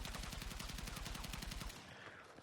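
An M417 A2 rifle fires on full auto in Battlefield 6 during a recoil test: a steady, rapid stream of loud, close shots for about two seconds, then abruptly stops with a brief decaying tail.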